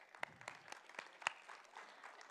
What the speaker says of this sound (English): Let's clap it up for the politicians real quick.